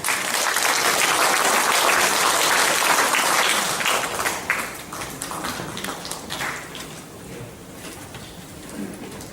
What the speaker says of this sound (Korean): 뜨거운 박수로 모시겠습니다.